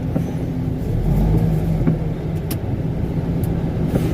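A truck pulling a trailer creeps forward at low speed while parking, its steady low engine rumble running continuously and close by, with no talk.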